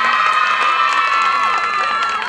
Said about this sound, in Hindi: उतनी ही बुलंद आवाज में वो लोग आप लोग तालियां भी बजाइए।